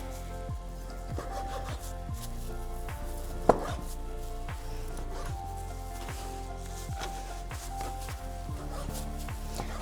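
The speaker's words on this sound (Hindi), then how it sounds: "चिकन को हमने स्लिट कट करना है, थिन कट करना है, इसके क्यूब्स बनाने हैं।" Raw chicken is cut into thin cubes with a knife on a board, a steady series of close, rhythmic chopping taps under a quiet background hum, with one sharper knock early on.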